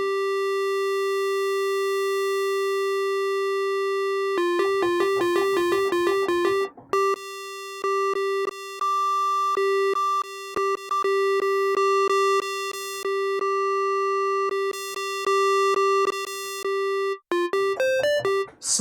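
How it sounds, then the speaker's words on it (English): Korg Opsix synthesizer with its MS-20 filter mode: a pure sustained tone, then bursts of rapid staccato note repetitions alternating with long held notes and short gaps, fairly loud and with no voices. "So far, I liked the sound of this MS-20 filter mode the best"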